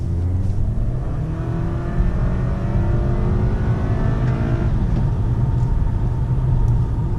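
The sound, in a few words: Toyota Camry V6 engine accelerating while driving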